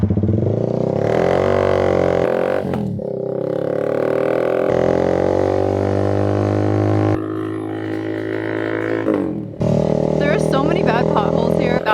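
A motorcycle ridden over rough road hits a deep pothole, with a steady engine drone and rushing wind throughout and a brief jolting clatter near the end.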